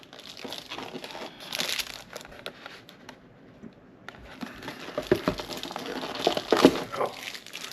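Packaging for a Kizer Baby fixed blade knife being opened, close crinkling and rustling of plastic and paper in uneven bursts that grow busier toward the end.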